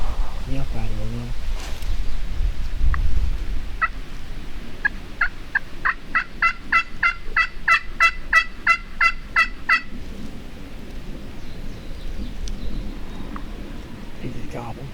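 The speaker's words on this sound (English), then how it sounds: "He just gobbled." A wild turkey longbeard gobbles in Michigan woods, a far-off rapid rattling burst in the middle of the stretch, with rustling, close murmured talk and faint low noise around it.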